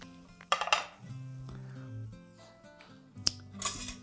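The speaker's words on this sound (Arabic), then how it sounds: "نخلط هذه المكونات" Hot chicken and cheese filling being mixed in a dish with a utensil: intermittent scrapes, soft squelches and clinks against the dish, with quiet background tones between strokes.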